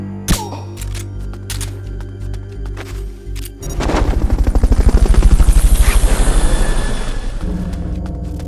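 A helicopter's rotor in Metal Gear Solid Peace Walker thumps steadily, growing louder and closer with dense rhythmic chopping, after some earlier clattering and a sharp bang.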